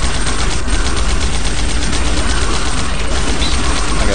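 Rapid, continuous gunfire from shooting aliens in the top-down game Alien Shooter, a dense, steady barrage that stays loud for the whole stretch.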